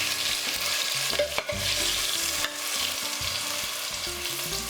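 Fried potatoes for a potato and tomato curry are lifted out of a pan with a slotted spoon, hot oil sizzling steadily beneath scattered metal scrapes and clinks, close and with no talking.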